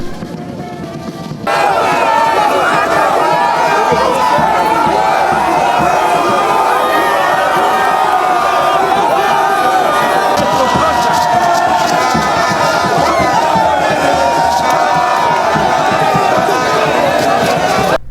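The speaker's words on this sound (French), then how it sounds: "sa part de bain de foule devant un public visiblement qui l'attendait" A large outdoor crowd greets the Congolese president arriving in Abidjan, Côte d'Ivoire, with loud, continuous cheering, shouting and chatter that swells in suddenly after a quieter start and stays dense throughout.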